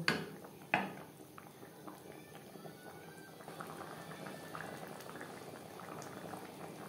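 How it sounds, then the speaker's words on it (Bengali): Chicken and potatoes boil steadily in a pot of curry, a continuous bubbling simmer with a soft knock near the start, no voices. "চিকেনের সাথে আলু 2-3 মিনিট বেশ ভালো করে ফুটিয়ে নেব"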